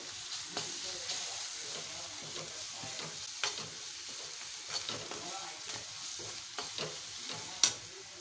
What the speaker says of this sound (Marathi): लसूण पण व्यवस्थित कांद्याबरोबर तेलामध्ये परतून घेते